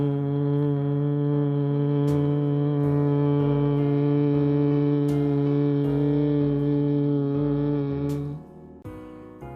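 A slow, steady humming exhalation for bee-breath yoga breathing holds one low voiced tone for several seconds, close and even, then fades into a short breath.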